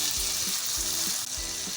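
Chicken fries on high flame in a pan with browned garlic, giving a loud, steady sizzle broken by three rhythmic scraping stirs that come roughly every half second. No one speaks.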